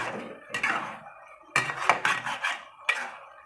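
Milk for gajrela, a carrot and milk dessert, being scraped off the sides of a cooking pan with a spoon: several bursts of clinking metal scraping separated by short quiet gaps, close and fairly loud.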